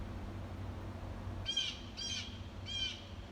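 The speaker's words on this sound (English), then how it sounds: "Unhappy bird." An agitated bird gives three short, harsh calls over a steady low background hum, each call brief and moderately near.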